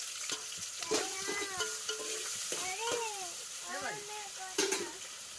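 Country chicken curry cooks in a pan in a village kitchen, with a steady sizzle and occasional stirring. Brief high, tonal calls sound over the sizzle.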